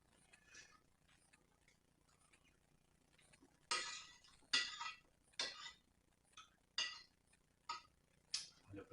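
A spoon clinks against the rim of an Instant Pot holding chicken gizzard and heart curry, tapping about seven times in an uneven rhythm, close and moderately loud, with a quiet room behind and no talking.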